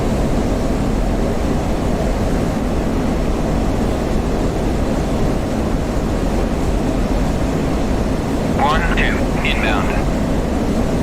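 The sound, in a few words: aircraft engine in flight, DCS World video game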